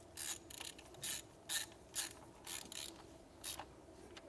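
A torque wrench ratchets while tightening timing chain bolts on a BMW N20 engine, making a series of short metallic clicking bursts at a steady pace, about eight strokes, close and moderately loud, with no talking.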